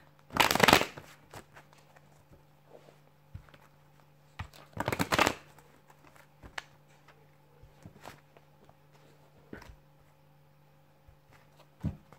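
Tarot cards being shuffled and picked out, with two short riffling bursts and later a few scattered soft card flicks and taps in a quiet room, near and faint between the louder shuffles.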